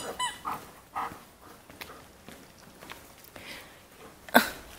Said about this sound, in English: Such a naughty dog.